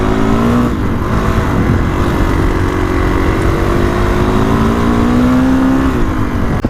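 A 2021 Kawasaki KX450X dirt bike rides wooded single track, its engine droning loud and close throughout with shifting revs and no pause.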